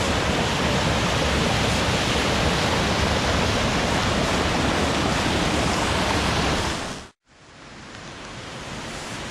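Small waterfall on a river near caves on Vancouver Island, Canada, a loud steady roar of rushing water heard close by, broken by one short gap of silence before resuming.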